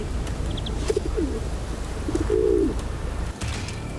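A pigeon-like bird gives short soft coos, then a longer rolling coo, over a steady background hiss in a mountain setting; no one speaks.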